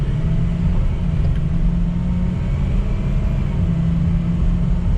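A 2004 Ford F350 4x4 pickup with 112k miles idles steadily nearby, a constant low engine rumble with no revving or speech.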